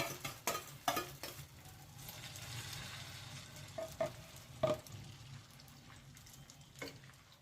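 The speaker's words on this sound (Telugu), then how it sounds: "ప్యాన్ వేడిగా అయిన తర్వాత మనం ఆమ్లెట్ వేసుకోవాలి." Beaten egg and Maggi noodle omelette batter sizzles in a hot pan with a steady frying hiss, broken by several sharp clinks and scrapes of a spatula against the pan.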